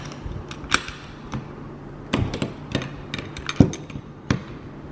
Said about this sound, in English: Installing the quick connect is pretty straightforward. You will need a large crescent wrench and an 11/16 wrench for the quick connect.